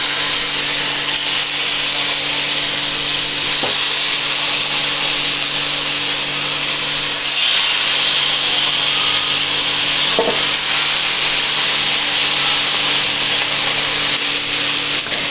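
Chicken coated in peri peri paste sizzles in oil on a hot grilling pan as a loud, constant frying hiss. There are a couple of faint clinks and scrapes, and no talk.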